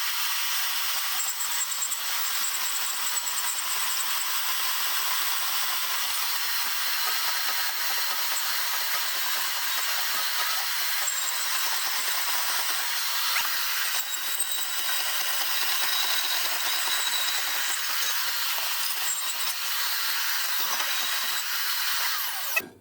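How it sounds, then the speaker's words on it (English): Portable bandsaw on a homemade stand cutting metal for a welding fabrication job, a steady loud grinding hiss that runs unbroken for over twenty seconds before stopping abruptly at the end. "my portable bandsaw stand that I made for this saw"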